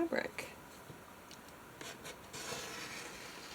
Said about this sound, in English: And this is how I'll cut my fabric.